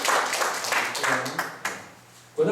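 A church congregation claps briefly during a sermon, a burst of applause that thins and fades out before a faint sound at the end.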